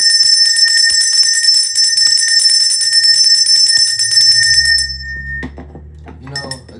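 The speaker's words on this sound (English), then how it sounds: "Let's ring this bell right quick and get some fresh stuff up in here." A bell rings clearly and loudly, its bright sustained tone ringing for several seconds before it cuts off. A few faint knocks and low rumbles follow.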